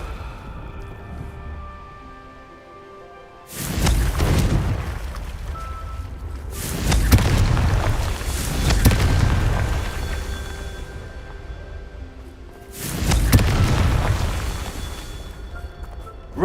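Confringo blasting spell from Hogwarts Legacy, cast three times: each cast sets off a loud, booming explosion with a low rumbling tail, the bursts spaced several seconds apart over a quieter magical ambience.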